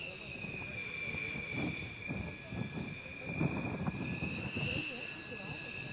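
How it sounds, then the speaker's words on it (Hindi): A Rafale fighter jet takes off at Ambala Air Force Station, a steady high-pitched turbine whine with a roaring rumble beneath, heard under continuous talk. "अंबाला एयरफोर्स स्टेशन पर ये एक खास और ऐतिहासिक पल, जब भारत की राष्ट्रपति Draupadi Murmu Rafale fighter jet में उड़ान भर रही हैं"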